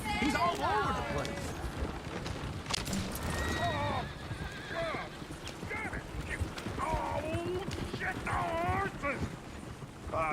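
Horse hooves clip-clop steadily beneath a horse-drawn coach in the Red Dead Redemption II video game, with repeated whinnies and neighs rising over the trotting, while voices talk throughout.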